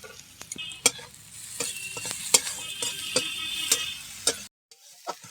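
Green chillies and onion frying in a pan, a low continuous sizzle broken by sharp scraping and tapping stirs of a spatula against the pan, close and fairly quiet, with a short silence near the end.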